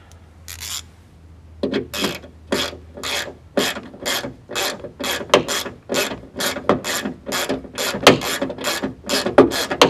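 A ratchet wrench tightening bolts on a Jeep Cherokee rear hatch, a close series of quick, regular clicking strokes with brief pauses between them and no talk.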